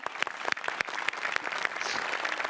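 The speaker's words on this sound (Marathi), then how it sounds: "जोरदार टाळ्या" A comedy show audience gives lively applause, a dense patter of many hands clapping that holds steady and fairly close for a couple of seconds, with no talking.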